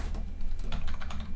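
Rapid typing on a computer keyboard while entering a login into PuTTY, a dense run of soft key clicks close to the mic, steady and uninterrupted over a low room hum, with no voices.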